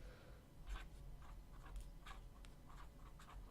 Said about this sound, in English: I'm going to take a moment to write this one out.